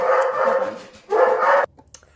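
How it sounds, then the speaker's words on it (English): Dogs bark in two loud, close bursts of rapid overlapping woofs, separated by a brief lull, then cut off abruptly into near silence. "I heard the dogs barking"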